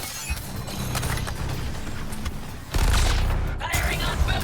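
Gunfire in the video game Suicide Squad Kill the Justice League, a rapid volley of shots over busy combat noise that surges louder partway through, with voices mixed in.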